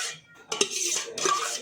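A spoon stirs cabbage curry in a metal pot, giving a few sharp clinks against the sides between soft scraping sweeps, close and otherwise quiet.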